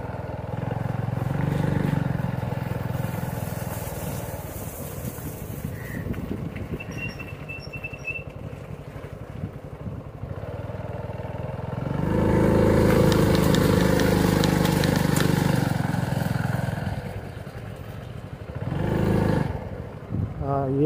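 A motorcycle passes on a quiet forest road near Kuske waterfall in Cotigao wildlife sanctuary, South Goa, its engine swelling in the middle and fading, with a second rise near the end.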